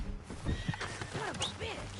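A horse whinnies several times in Red Dead Redemption 2, high wavering neighs close by over hoof clip-clops and background game sound, with no speech.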